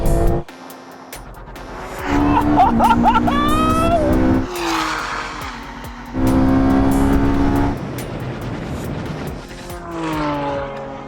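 A drag racing car accelerates hard in loud bursts of engine roar with rising tones and brief gaps between pulls, while people shout excitedly over it.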